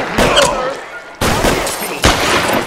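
Gunshots from the video game L.A. Noire crack in three sharp bursts, each followed by a rumbling tail and debris, loud and close.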